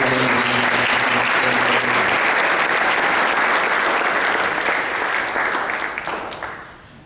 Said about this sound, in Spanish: con un fuerte aplauso les pido que den